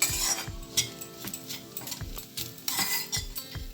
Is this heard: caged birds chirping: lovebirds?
no